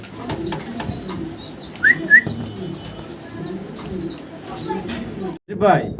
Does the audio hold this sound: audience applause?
no